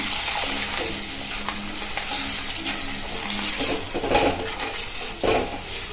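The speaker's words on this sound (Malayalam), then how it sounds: "കുറച്ച് വെള്ളം ഒഴിച്ചു കൊടുക്കാം." Ground roasted coconut masala for egg curry sizzles in a pan while a spoon scrapes and stirs; a brief hissing surge as water hits the hot pan near the end.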